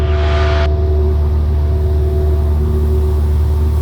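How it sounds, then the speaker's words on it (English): A loud, steady drone of a small propeller aircraft engine during climb after takeoff, humming at constant pitch throughout, close and unbroken, with no voices. "We're climbing nice, engine sounds good."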